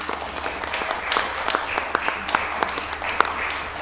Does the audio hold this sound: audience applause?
yes